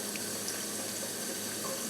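Warm water runs steadily from a kitchen tap over a boiled egg being peeled, a constant broadband rush with no pauses and no voices.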